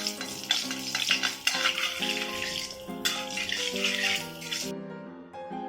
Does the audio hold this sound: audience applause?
no